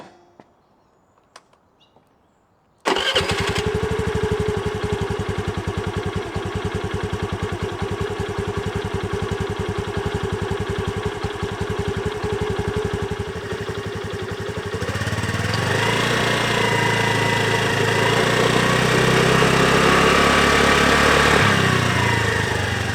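A Honda Navi motorcycle's small engine starts after brief silence and settles into a steady, loud idle, then its pitch rises and wavers as the throttle is blipped.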